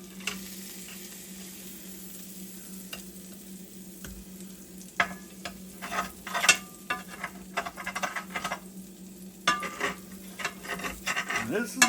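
Minute steaks are lifted from a red frying pan onto a plate, with metal utensils scraping and clinking against the pan over a steady sizzle, giving a series of close, irregular clatters.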